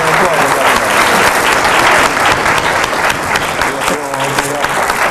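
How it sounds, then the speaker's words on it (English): An audience claps throughout a distinguished leadership series event, with dense, loud, sustained applause from a room full of people and faint voices underneath. "Give a round of applause."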